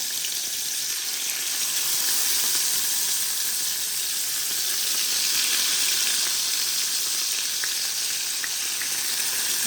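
Rohu fish frying in hot oil, seasoned with salt and turmeric, with a steady, dense sizzle and crackle that fills the whole stretch evenly at close range, with no voices.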